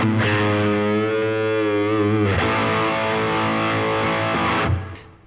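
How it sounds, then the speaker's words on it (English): Electric guitar played through Two Rock and Matchless amplifiers, one a Matchless Independence 35 with reverb added afterwards, ringing out in sustained distorted chords with a chorus-like shimmer, loud and close, letting the last chord ring before fading. "So there's the sound of both amplifiers."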